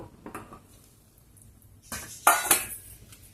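A spoon scraping and clinking against a pot while cooked tomato rice is mixed, quiet at first, then a few louder close metallic scrapes near the end.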